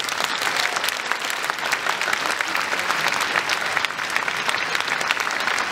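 An audience at a film premiere applauds, dense continuous clapping from a sizable crowd, loud and sustained throughout, with a voice faintly underneath.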